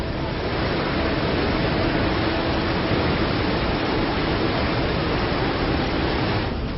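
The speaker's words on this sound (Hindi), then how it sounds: "हम आपको उफनती नदी के पानी के शोर को सुनाते हैं, जिससे आप अंदाजा लगा पाएंगे कि नदी का पानी किस रफ्तार से बह" The flooded Beas River in Kullu roars steadily, a dense, unbroken rush of churning water that stays loud and close throughout with no pauses or voices.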